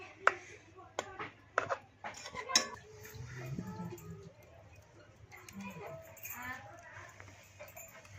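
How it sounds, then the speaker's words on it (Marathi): A metal spoon clinks and scrapes against a pan while gently stirring a stuffed brinjal (masala vangi) curry, sharp clatters at first and then softer stirring with faint sizzling, under a woman's speech. "आणि हलक्या हाताने मिश्रण हलवून घ्या।"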